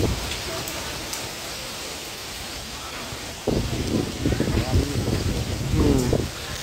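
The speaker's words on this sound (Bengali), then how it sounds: "ঝড় হঠাৎ করে ঝড় শুরু হয়ে গেছে।" Sudden storm wind rushing through leaves in a village, a dense continuous roar with rain-like hiss, while voices talk over it in the second half.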